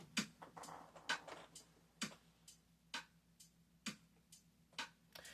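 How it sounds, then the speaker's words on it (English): Faint, simple drum beat for a homemade song, with kick, rim shot and hi-hat ticking in a steady, evenly spaced pattern, quiet and somewhat distant, with no talking. "Just your plain simple drum, rim shot, and hi-hat."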